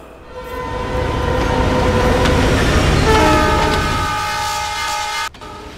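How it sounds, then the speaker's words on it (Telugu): A train rumbles past close by on a railway track beside a beach, a steady loud roar with sustained horn-like tones, then the noise cuts off abruptly near the end. "అలల శబ్దంతో పాటు రైలు శబ్దం కూడా వినపడుతోంది"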